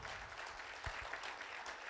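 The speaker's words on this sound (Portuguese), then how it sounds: "Eu queria uma salva de palmas para esses heróis" Faint audience applause for guests at a talk, soft, steady clapping heard from a distance, with a couple of low thumps near the middle.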